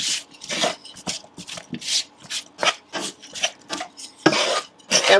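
Spiced potatoes and mushrooms being mixed in a pan, a series of rhythmic scraping and rasping strokes of a utensil against the pan, fairly close and clear with short pauses between them.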